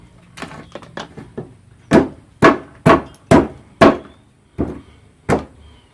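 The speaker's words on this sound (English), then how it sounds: "Now just take your hammer, give it a good pop or two on the end." Hammer striking the end of a wooden board while building raised garden beds: a few lighter taps, then a row of sharp, loud knocks spaced about half a second apart, close by, with no speech.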